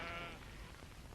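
Sheep in a countryside field let out a single wavering bleat that opens the moment, followed by soft outdoor background noise.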